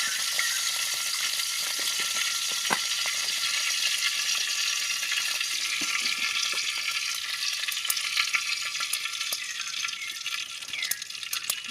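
Mustard seeds spluttering in hot coconut oil in a pan, as a seasoning for a Kerala snake gourd and prawn thoran, give a steady close sizzle with dense, sharp popping crackles throughout and no talk.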